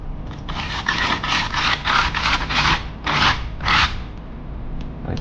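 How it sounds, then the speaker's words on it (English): A piece of aluminium being shaped for jewellery is sanded by hand in close, continuous rasping strokes that rise and fall rhythmically. "when you're sanding."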